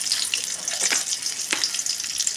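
Black cumin and green chili sizzle as they hit hot oil for a spinach curry, making a steady, close, crackling hiss with a few sharper pops.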